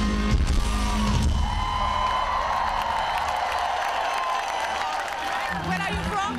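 Concert crowd at a rock show in Bucharest, cheering and applauding in a steady, loud wash of whoops and yells that fills the whole stretch, with voices mixed in near the end.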